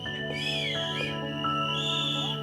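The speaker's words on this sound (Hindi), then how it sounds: "सीटियां बजाओ प्लीज, थोड़ा सीटियां बजाओ कोई." Sharp, loud whistling from an audience at a movie trailer launch event, several overlapping whistles sliding up and down in pitch, continuous for a couple of seconds.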